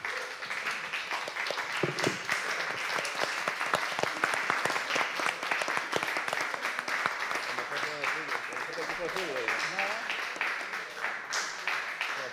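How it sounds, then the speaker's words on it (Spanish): An audience at a presentation event on modular synthesis gives a long, sustained round of applause for the musicians, dense and steady throughout, with voices and a few cheers mixed in under it. "quiero que por favor le demos un gran aplauso a todos los músicos que han trabajado durante el año pasado"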